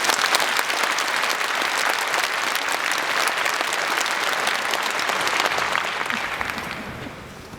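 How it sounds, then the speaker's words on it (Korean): A large congregation claps for a newly ordained bishop at a Seoul archdiocese ordination celebration, with dense, sustained applause throughout that tapers off near the end. "큰 박수 부탁드립니다."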